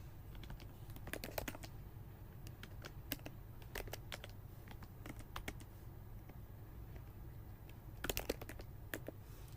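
Keys tapped on a computer keyboard while entering code, soft clicks in quick scattered bursts with pauses between them, fairly quiet and close, with no voices.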